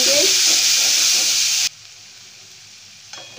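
Coarse onion paste hits a hot pan with bay leaf and sizzles loudly and steadily, then cuts off abruptly partway through, leaving quiet background with a faint clatter at the end.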